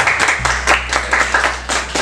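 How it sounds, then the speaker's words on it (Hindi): Audience at a Hindi poetry event breaks into applause, a steady patter of many hands clapping close by, over a low hum. "एक बार मौखिक कलम के लिए जोरदार तालियां"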